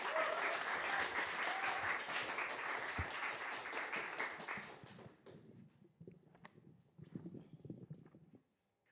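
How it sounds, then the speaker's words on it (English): An audience at a student reading event gives a warm round of applause, steady dense clapping for about five seconds that fades out into scattered shuffling and a few quiet murmurs. "Round of applause, please, for them"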